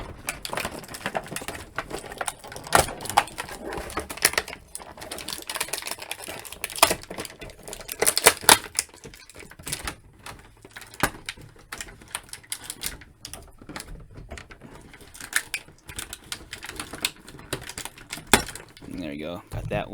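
Plastic ties being pulled and snipped from the ankles of Mattel WWE Ultimate Edition action figures inside their packaging, a busy run of crinkles, clicks and rustles with a voice talking now and then.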